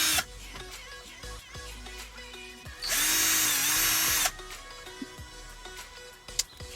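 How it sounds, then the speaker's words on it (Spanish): A power drill whirs loudly in one burst of about a second and a half, removing screws from a car steering wheel emblem, amid quieter clicks and handling noises. "Yo voy a usar un taladro"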